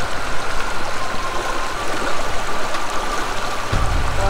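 Small Alaskan stream where salmon gather, water flowing and trickling steadily in a close, continuous wash, with a brief louder surge near the end.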